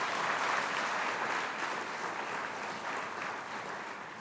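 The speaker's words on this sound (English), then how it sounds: "let's give them a round of applause" A large audience at a summer college graduation ceremony claps in sustained, dense applause, a steady wash of many hands heard from across a hall that fades slightly toward the end.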